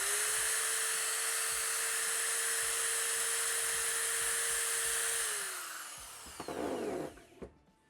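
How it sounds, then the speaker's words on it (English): A cordless drill spins a hoverboard hub motor, giving a loud steady high whine for about five seconds before it winds down and stops, followed by a few light clunks and handling knocks. "I will spin it with my drill"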